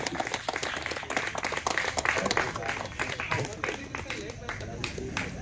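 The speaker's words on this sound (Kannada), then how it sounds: "ಜೋರಾದ ಚಪ್ಪಾಳೆ." Loud, dense applause from a gathered crowd at a small felicitation ceremony, sustained clapping filling the whole stretch with talk mixed in beneath it.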